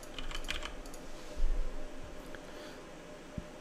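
Fingers tap quickly on a computer keyboard, a short burst of light close clicks followed by a few heavier key presses, with no talking.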